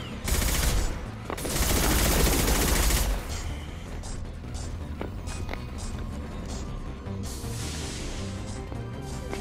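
Heavy gunfire in the video game Mass Effect 2, with sustained automatic bursts and loud fusillades that swell early, then settle into continuous mid-level shooting and combat noise.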